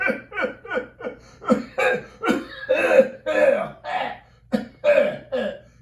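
An elderly man coughs in a quick run of sharp, close bursts, then several heavier, rougher coughs follow with short pauses in between. The sound is dry and loud throughout.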